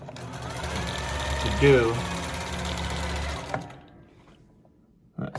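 A Bernina 117 sewing machine stitching with the embroidery attachment engaged gives a steady motor whir and rapid needle chatter for about three and a half seconds, then stops, with a person talking over it.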